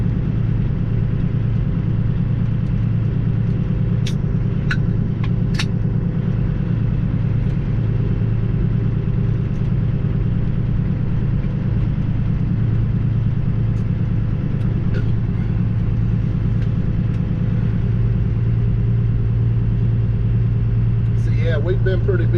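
A Peterbilt truck hauling rock rumbles steadily down the highway, its deep engine drone continuous and loud throughout, with a few faint clicks and rattles over the top and a voice talking at times.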